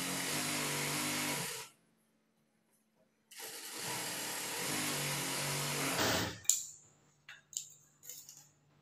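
A sewing machine runs two steady top-stitch passes on cloth, a near whirring hum that stops, pauses silently and starts again, then gives way to a few light clicks and handling sounds.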